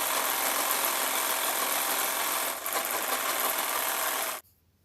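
A sewing machine stitching a kantha cover runs in a fast, continuous whirring drone close by, dipping briefly midway, then stopping abruptly near the end, leaving near silence.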